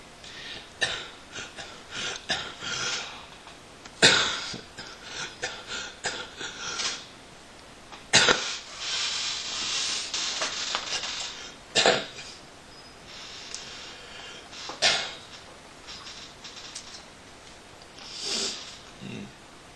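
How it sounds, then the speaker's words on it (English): Several harsh coughs and throat clearings erupt close up at irregular intervals, with sniffs and quieter breathing between them. "Just about to spit my teeth trying to cough."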